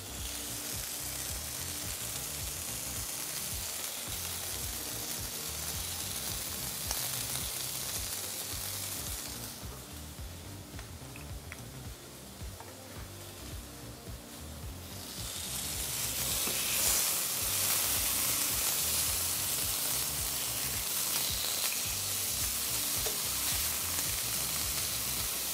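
Chicken breast searing in a pan, a steady close sizzle that eases off for a few seconds and then comes back louder. No one talks over it.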